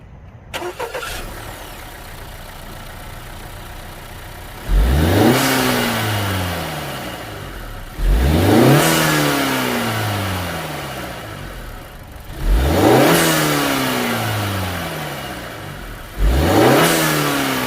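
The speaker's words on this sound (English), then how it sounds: "Let's start her up and do a few revs." A 2018 Honda Accord 2.0T engine with a K&N drop-in air filter cranks and starts, then revs up sharply four times, each rev rising and falling back to a steady idle, close and loud with no talking.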